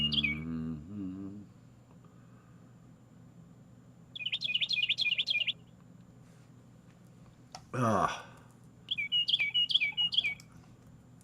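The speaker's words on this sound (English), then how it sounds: "I hear the birds, but I do not see the birds." Bursts of high, rapid bird chirps in two separate clusters, fairly clear against quiet, with a short spoken exclamation at the start and a brief rustle between.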